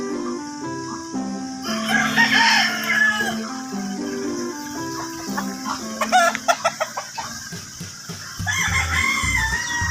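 Fighting cocks at a cockfighting farm crow and cluck repeatedly, several birds close by, with loud overlapping crows and sharp clucks in a busy rural setting.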